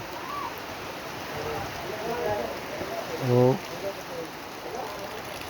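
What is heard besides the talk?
heavy rain in the mountains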